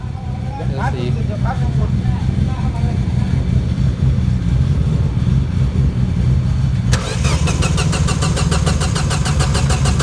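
A Mini Cooper that won't start is cranked by its starter, with the engine turning over steadily but never catching. The whir continues throughout and changes character partway, with some talk nearby.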